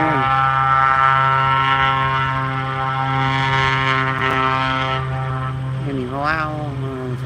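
A C-17 Globemaster's jet engines roar and whine loudly and steadily while it sits lined up on the runway at Albany International Airport, with excited voices talking over the engine noise.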